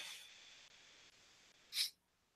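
A person lets out a single sharp, breathy sneeze close to the microphone after a stretch of soft, steady noise, followed by near quiet.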